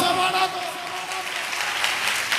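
Church congregation clapping during a pastor's sermon, a dense continuous patter of many hands filling the room while the preacher's voice carries on over it.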